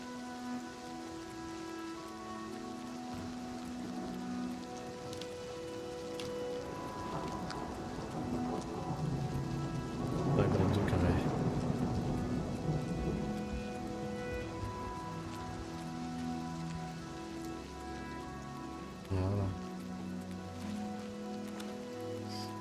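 Steady rain pours and patters in the Oblivion Remastered video game while thunder rolls and swells near the middle, then fades back into the constant hiss of the downpour. No one speaks.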